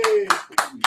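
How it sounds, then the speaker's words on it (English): A few brief bursts of hand clapping, scattered and uneven, with a voice talking underneath. "Give a round of applause."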